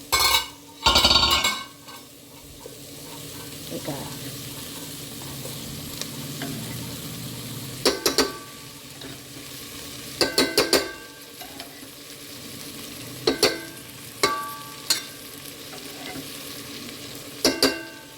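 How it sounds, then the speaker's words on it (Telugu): Vegetables fry in hot oil in a home kitchen pan, a steady close sizzle running throughout, with loud bursts of stirring and scraping near the start and short metallic clinks of a spoon against the pan recurring every few seconds. "మంచిగా వెజిటేబుల్స్ ఆయిల్ ఫ్రై అవుతూ ఉన్నాయి"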